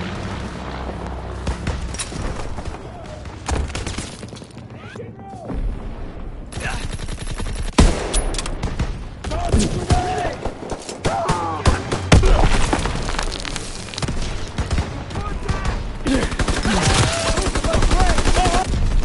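Call of Duty WW2 gameplay with dense, loud gunfire, machine-gun bursts and booming explosions running continuously, while in-game voices call out over the battle.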